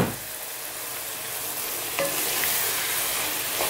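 Cooked lentils (dal) stirred in a hot pan, giving a steady, close sizzle and hiss with scraping stirs, no voices.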